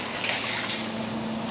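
Sediment-laden water drains steadily from a water heater during a flush, a close, loud and continuous watery rush with no breaks and no talking.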